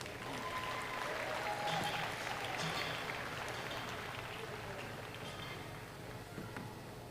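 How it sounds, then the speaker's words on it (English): Audience applause at an event: a fairly faint, steady wash of clapping from a crowd in a large space, fading slightly toward the end. "One more round of applause for Lexi."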